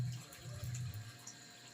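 Water pours steadily into a cooking pot for chicken soup, a continuous close rushing stream with no talk over it.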